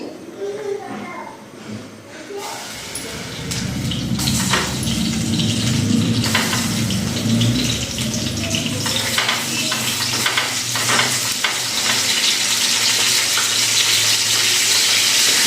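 Stuffed eggplants for a spicy Khandeshi curry go into a pan to steam, setting off a rising hiss and sizzle with clatters and stirring, while someone speaks.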